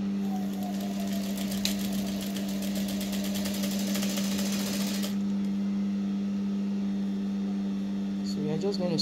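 Sewing machine sewing the back dart of a full circle dress with flounce hums and chatters steadily up close for about five seconds, then a lower motor drone continues, with faint voice near the end.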